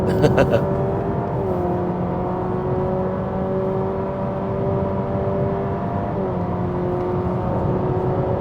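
A steady, humming simulated engine drone from a Honda Civic RS e-HEV hybrid on a hill climb, with tones that shift pitch smoothly as if accelerating, continuous and fairly loud, with a few clicks at the start.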